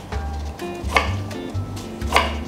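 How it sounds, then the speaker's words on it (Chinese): Knife chopping galangal into small pieces for a tom yum fried rice, a few sharp taps on a cutting board over a steady background hum, no talking. "我就會將佢切到佢好細粒啦"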